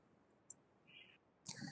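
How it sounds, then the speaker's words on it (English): A computer keyboard's enter key is pressed during a database search, giving a couple of soft, faint clicks against a quiet room hiss. "I'm simply typing dental and I'm pressing enter, go."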